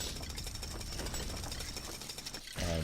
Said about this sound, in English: you use your construction worker to move away with the phenomenal drill